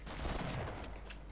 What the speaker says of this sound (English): this time let's use the shotgun